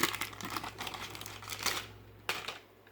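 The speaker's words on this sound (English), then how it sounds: "These packs are actually made of tin foil, which is making them harder to open" Crinkly tin foil trading card packs from a 1991 Upper Deck football box being torn and peeled open, with bursts of crumpling and tearing close to the mic and two sharper rips near the end.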